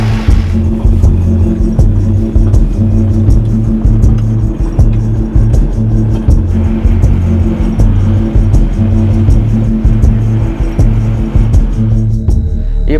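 A hired car drives steadily with a loud, constant low engine drone and rhythmic pulsing rumble from inside the cabin, continuing without a break.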